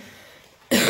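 A single sharp cough bursts out abruptly after a quiet stretch, loud and close, with no other sound around it.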